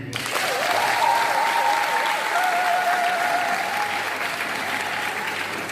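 An audience applauds at a fundraising event for building a cathedral in Grand Bassam, a dense, steady wash of clapping that fills the whole stretch at a loud, even level.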